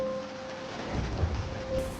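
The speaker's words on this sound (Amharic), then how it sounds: "በንጋታው ከባድ ዝናብ መዝነብ ጀመረ" Heavy rain pours in a dense, steady hiss while low thunder rumbles and swells through the second half, with no voices.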